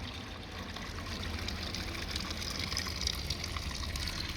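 Natural water runs steadily at a fill-up point in a Peak District town, a soft continuous trickle and splash heard at moderate level outdoors.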